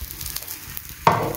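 Sea bass frying in a pan, with a soft background crackle that swells into a sudden brighter sizzle near the end, close and with no talk.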